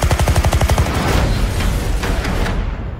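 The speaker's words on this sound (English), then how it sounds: "They've opened fire on journalists." Rapid automatic gunfire in a movie trailer, a loud close burst of evenly spaced shots followed by roaring rattling fire and echoes that trail off.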